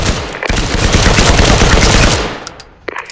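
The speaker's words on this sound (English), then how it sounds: "Pull the trigger to fire your rifle at the target." Rifle fire at a target in the Firewall Zero Hour training exercise: a loud, rapid automatic burst lasting over two seconds, close and harsh, then a few separate trailing shots.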